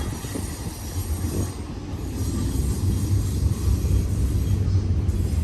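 A westbound BNSF freight train rolls past on Sullivan's Curve with distributed power units at the rear, giving a loud, steady, close rumble of wagons with faint wheel squeal throughout.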